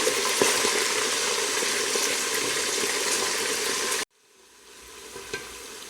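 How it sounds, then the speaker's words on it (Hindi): Chicken for pulao stir-fries in a pot with a loud, dense sizzle and stirring for about four seconds, then cuts off abruptly to near quiet with a faint bump. "चिकन स्टर फ्राई कर लिया"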